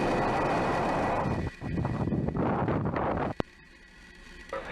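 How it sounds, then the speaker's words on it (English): Falcon rocket lifting off on the Starlink 3-5 launch: a broad, loud roar with rumbling and crackle, broken by a brief drop and a sharp transient before easing to a quieter rushing tail. "Engine full power. And lift off of Starlink 3-5."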